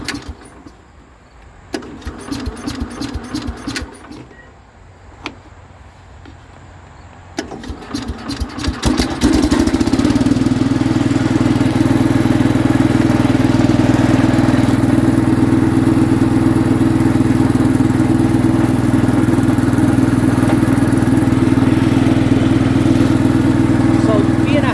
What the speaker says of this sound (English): So let's see if this thing starts up like a new tractor.